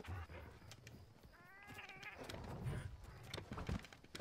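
A cat meowing in the Monster Hunter Rise video game, a few short cries over steady game background sound and music.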